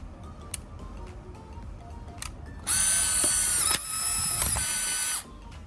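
A close mechanical whir from a Polaroid Go Gen 2 instant camera ejecting a print, a loud motorized buzz lasting a couple of seconds after a few faint clicks.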